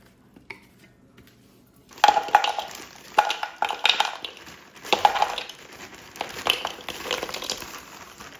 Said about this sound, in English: We're going to go ahead and pour those into the pot.